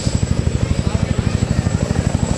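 An AH-1W Whiskey Cobra military helicopter at a rotorcraft event, its loud rotor beating in a fast, steady chop close by.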